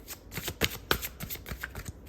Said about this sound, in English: I just wanted to shuffle this one more time.